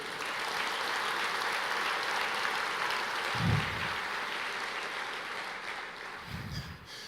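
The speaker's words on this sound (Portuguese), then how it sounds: "você pode aplaudir o Senhor?" A church congregation applauds steadily and evenly for several seconds, a dense wash of many hands clapping with no voices on top.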